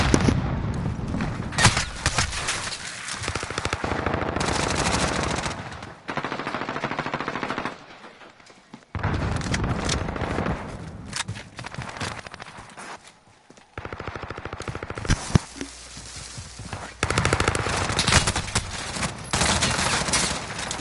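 Bursts of automatic gunfire and rapid shots from an esports video game match, loud and dense, coming in waves with brief lulls and scattered footstep-like clatter between volleys.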